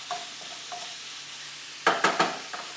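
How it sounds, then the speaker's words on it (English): Ground beef browning in a pot, with a few sharp scraping stirs toward the end over a faint, low sizzle; no talking. "You want to brown all your beef."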